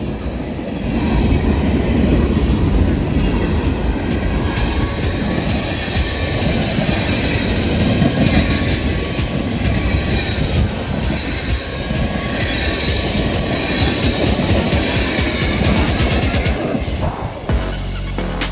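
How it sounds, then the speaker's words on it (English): A fast freight train barrels past at full throttle, a loud continuous roar of rolling wheels and rattling cars with squealing metal and rhythmic clacking, close to the track, dropping away abruptly at the end. "I can't believe how fast that train was going."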